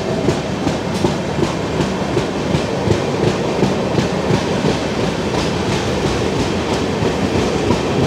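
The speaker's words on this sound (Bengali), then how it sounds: "দক্ষিণেশ্বর ছেড়ে ট্রেন বেরিয়ে গেল।" A Kanchankanya Express passenger train rolls along the tracks after leaving Dakshineswar, its steady rumble carrying a regular clickety-clack of wheels over rail joints, close and continuous throughout.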